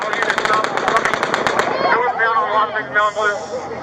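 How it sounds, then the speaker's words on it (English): Rapid bursts of automatic gunfire ring out during the Las Vegas mass shooting, picked up on a police body camera, loud and fast for over a second before giving way to officers shouting and talking. "he's shooting this way"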